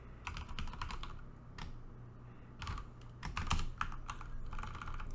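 Computer keyboard typing while code is written for a LeetCode maximum sum circular subarray problem: quick, irregular clusters of close key clicks, with short pauses between bursts and no talking.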